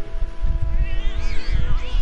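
Two round cats in Final Fantasy VII Remake give soft game meows, mixed low under a steady musical score and ambient hum, with a brief warbling cry rising near the end.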